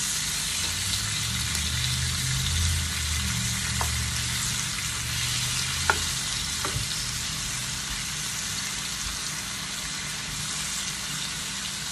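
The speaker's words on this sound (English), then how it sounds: "I'm going to go ahead and mix this around." Salmon and shrimp sizzle steadily in a pan with garlic, a continuous close frying crackle while they are stirred, with a few brief scraping clicks from the utensil and no talking.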